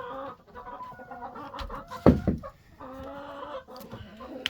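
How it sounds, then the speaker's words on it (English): Hens clucking close by in a steady, chattering stream, with a brief louder squawk partway through. "It's just one hen that lays there."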